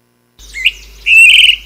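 A clear, sweet song of a central Chinese thrush: a short rising whistled phrase, a brief pause, then a louder sustained warbling phrase, close and alone.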